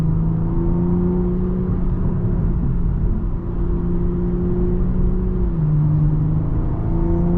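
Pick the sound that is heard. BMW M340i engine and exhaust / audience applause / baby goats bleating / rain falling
BMW M340i engine and exhaust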